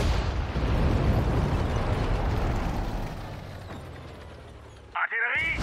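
A booming cannon blast in the WWII strategy game Sudden Strike 4 with a long rumbling decay that fades over several seconds, followed by a short burst of German voice near the end.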